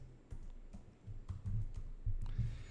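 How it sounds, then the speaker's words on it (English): Fingers type on a computer keyboard, entering words into a search bar, with quiet, irregular key clicks close by and no talk. "you want to type in data analyst."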